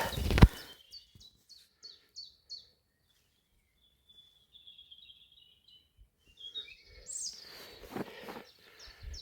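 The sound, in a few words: small birds chirping on the Camino de Compostela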